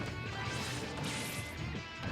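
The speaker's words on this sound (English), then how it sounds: "Yeah, so final smashes are pretty cool." A final smash attack in a fighting video game bursts out as a dense, loud crash-like blast filling the whole short stretch, with no talk over it.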